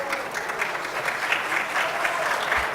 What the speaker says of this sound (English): It's the only place where like people see a video game and applaud.